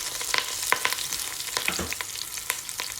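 Onions, mustard seeds, cumin, fennel, garlic, chilies and curry leaves sauté in a pan with a close, dense crackling sizzle dotted with sharp pops and spatters. No one talks over the steady frying.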